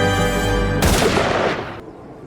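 Cartoon gunshot in Family Guy: a sustained musical tone cuts off into one loud, sharp blast that rings for about a second, then fades.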